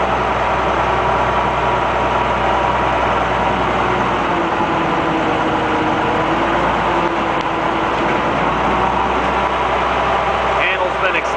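A Bucyrus Erie 10B dragshovel's heavy engine runs steadily throughout as it works a digging cycle, a constant low, loud drone with a voice talking over it.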